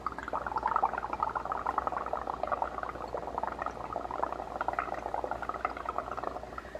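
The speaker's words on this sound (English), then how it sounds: "I'm going to blow in, and I bet we'll make some bubbles" Someone blows through a straw into a liquid, producing a steady, close bubbling gurgle that keeps going for several seconds without pause.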